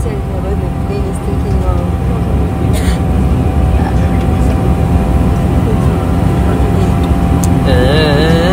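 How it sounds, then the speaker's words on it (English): A plane taking off, heard from inside the cabin as a steady, loud engine roar that runs the whole time beneath a close conversation. "the plane is taking off"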